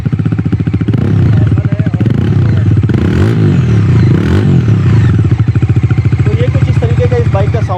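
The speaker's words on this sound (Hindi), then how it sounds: "चलिए टाइम हो गया दोनों बाइक के साउंड को" Bajaj Dominar 400 motorcycle engine running close by, a loud rhythmic exhaust thump at idle that rises through several revving blips before settling back, heard alone without talk.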